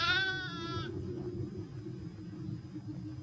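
A single short bleat opens, from a sheep in heavy snow during the harsh 1963 freeze, heard fairly close before fading into a steady low rumble.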